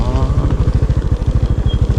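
A Thai farm tractor engine chugging close by, a rapid, even low thumping beat that runs throughout, loud and rough, with no talk over it.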